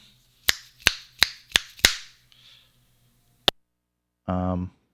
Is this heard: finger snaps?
yes